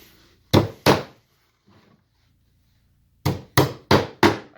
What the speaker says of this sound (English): and you're running the hammer